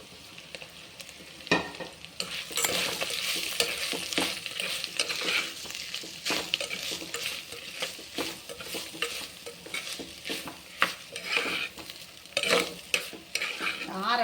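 Grated coconut and curry leaves being sautéed for tomato curry, with a soft sizzle under repeated scraping and stirring strokes against the pan, close and steady with sharper clatters near the end.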